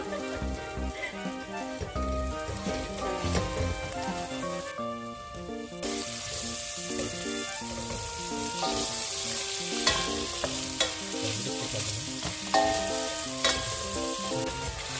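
Meat and sauce for malatang fry and sizzle loudly in a pan, a steady crackling hiss broken by repeated stirring clanks and scrapes of a utensil against the pan.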